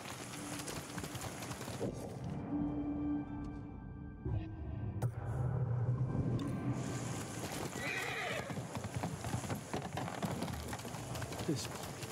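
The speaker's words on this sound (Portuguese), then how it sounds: "Você é um bom cavalo, Nobu." Horse hooves galloping in the video game Ghost of Tsushima, a steady clip-clop run with the horse neighing and whinnying, backed by continuous outdoor ambience and faint game sounds.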